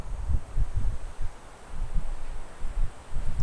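Wind gusts across a golf course and buffets the microphone. Low, rumbling bursts swell and fade in an uneven rhythm for a few seconds, with no voices.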